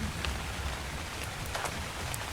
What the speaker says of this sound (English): Oh no, it's just raining.